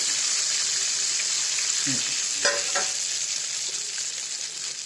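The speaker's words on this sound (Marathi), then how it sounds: "चांगले खुसखुशीत तळा" Raw banana chips deep frying in hot oil, a constant bright sizzle with a few brief stirring clinks and scrapes midway, close and continuous throughout.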